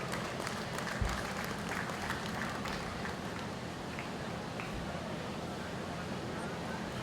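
A crowd claps at a Brown Swiss dairy cattle show at the New York State Fair, a steady wash of applause across the arena with a couple of louder thumps.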